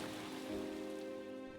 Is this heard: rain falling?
yes